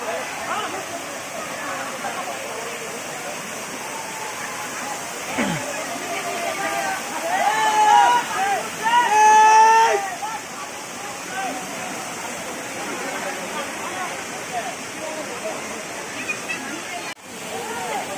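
Steady rushing water from a waterfall at Kakaijana park fills the whole clip, a constant broadband roar with a person talking over it partway through.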